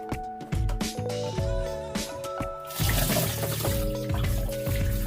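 Water pours into a 20-gallon Tower Garden tank, a steady gushing flow that grows fuller and splashier partway through, close and loud with no talking.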